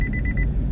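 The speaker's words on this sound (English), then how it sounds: "that was my alarm going off when I'm getting too close to someone" A car's proximity alarm sounding as it gets too close to another vehicle: a short series of rapid, evenly spaced high beeps over a low engine rumble, fairly loud and close.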